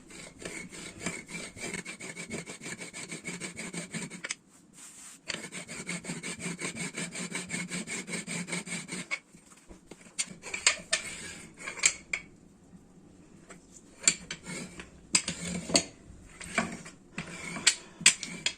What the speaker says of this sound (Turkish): Hamurumu böyle bir merdane ile açacağım.